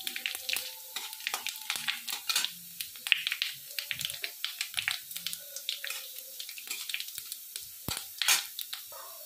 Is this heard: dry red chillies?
yes